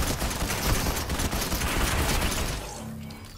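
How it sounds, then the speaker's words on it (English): A dense barrage of gunfire in the video game Fortnite forms a continuous rattling, crackling roar, loud and close, then thins out near the end. "Oh, we're being shot at."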